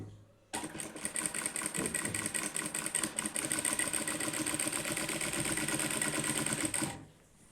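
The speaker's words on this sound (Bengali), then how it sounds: "দেখুন কীভাবে সেলাই করছি।" A sewing machine stitches the binding on a nighty's round neckline, starting abruptly and running steadily and loudly for several seconds with a fast, even, whirring rhythm before stopping.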